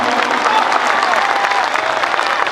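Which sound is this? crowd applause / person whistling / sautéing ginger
crowd applause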